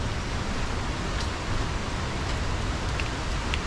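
Steady rain falls outdoors in Laos near Tad Yeuang waterfall, a soft continuous hiss at moderate level with a few faint drips, and no one talking.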